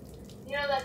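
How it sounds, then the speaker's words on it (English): A tap runs in the Roblox game Where I Call Home. A short hiss of water comes in halfway through and briefly turns to a brighter trickling tone, while the level stays fairly quiet. "Investigate the running water."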